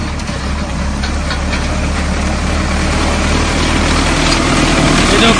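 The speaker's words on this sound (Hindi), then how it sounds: "किसान ने खेत में खड़ी गेहूं की फसल पर चलाया ट्रैक्टर" A tractor plowing a standing wheat crop in a village field, its engine a loud continuous low rumble with a steady droning roar and no break.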